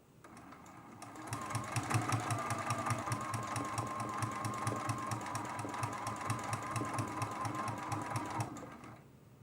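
A sewing machine runs at high speed, stitching down quilt applique with variegated thread, a fast, even mechanical chatter held steadily for several seconds before stopping, close and alone.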